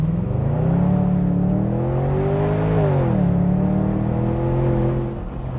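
A BMW in sport mode launches from a standstill, its engine revving up in a rising whine, dipping briefly as it shifts, then climbing again, loud and close.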